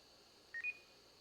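Two short, bright electronic startup beeps from an Icom ID-52A handheld radio in quick succession, the second slightly longer, against a quiet background hiss.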